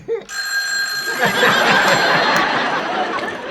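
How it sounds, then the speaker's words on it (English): A telephone bell starts ringing after a brief pause and keeps ringing loudly and continuously, a bright metallic ring in a sitcom room. "Benson, don't answer the phone."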